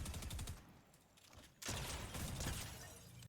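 Video game gunfire hits an opponent's built wall in rapid bursts of shots and cracking impacts. A quieter stretch comes before a louder, denser volley.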